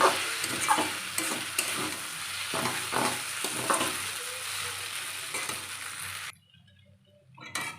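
Steady sizzling and frying as vegetarian chow mein noodles are stir-fried in a wok, with repeated scraping strokes of a spatula, close by, ending in a quieter pause.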